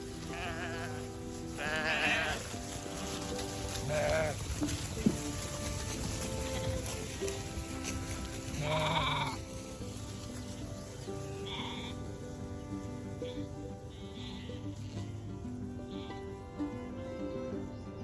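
Several sheep bleat at intervals, some near and loud, others fainter, over a continuous outdoor background.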